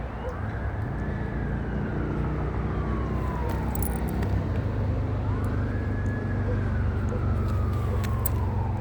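A wailing siren sweeps up and down twice over steady traffic rumble, fairly distant and continuous.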